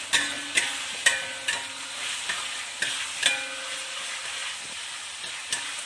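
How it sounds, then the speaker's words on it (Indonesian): Bruised lemongrass, galangal and bay leaves sizzle in hot oil for beef gulai, a steady close frying hiss punctuated by repeated sharp scrapes and taps of a spatula against the pan. "Kita tumis sampai wangi."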